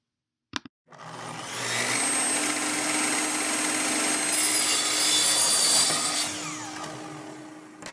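A table saw rips quarter-inch milled walnut stock to size for a jewelry box tray, a loud, steady whining cut that starts abruptly after a short knock and runs nearly eight seconds before easing off.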